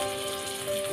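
Spices with garlic paste frying in oil for a liver curry, with cinnamon, bay leaf and white and black pepper in the pan, giving a continuous close sizzle and crackle throughout.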